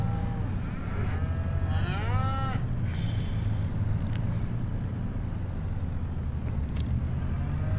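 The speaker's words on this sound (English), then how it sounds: "So we got our little cows to the left." Cows mooing in the video game Farming Simulator 25, one long rising and falling moo followed by others fainter in the distance, over a steady low rumbling background.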